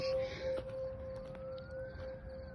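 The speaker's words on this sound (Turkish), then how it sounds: "ambulans sesiymiş dedim ne oluyor dedim ama." A distant ambulance siren wails at a steady pitch beneath faint background hum at night near a park and cemetery, thin and far off, with no one speaking.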